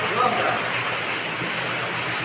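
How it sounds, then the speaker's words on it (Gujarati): Water gushes hard from a newly drilled horizontal borewell on a farm near Keshod, a steady, loud, broadband rush that fills the whole clip, with a faint voice briefly at the start. "જોવો આ જોરદાર પાણી છૂટ્યું છે ભાઈ"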